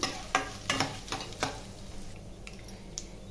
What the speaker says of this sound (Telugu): ఇప్పుడు నూనె బాగా వేడెక్కింది అందులో ఆవాలు జీలకర్ర శనగపప్పు మినప్పప్పు ఎండుమిరపకాయలు వేసుకొని